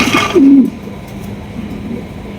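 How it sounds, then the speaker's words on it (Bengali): A pair of red indigo Shoking pigeons is heard as one brief, loud low coo, followed by quieter background. "এখানে রয়েছে আরো এক জোড়া শৌকিং কবুতর"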